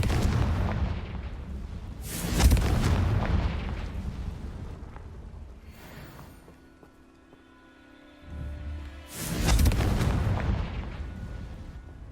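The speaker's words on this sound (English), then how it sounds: "Confringo!" Confringo fire spells explode in the video game Hogwarts Legacy: two loud, booming blasts several seconds apart, with rumbling game sounds between them.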